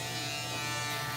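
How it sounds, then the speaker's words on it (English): An Instinct electric shaver runs with a steady, dense motor buzz, loud and close, holding constant without pauses. "We're gonna move on to the Instinct shaver."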